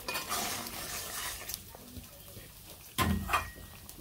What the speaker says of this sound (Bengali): মাছ এখন দিয়ে দিই।